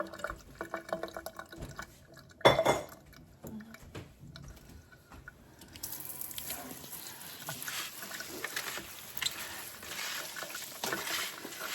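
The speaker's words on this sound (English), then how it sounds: "Get a nice rinse." Salted cabbage is rinsed under running water in a kitchen sink, starting with bowl handling and clatter, then a steady faucet stream splashing over the leaves for the rest of the clip.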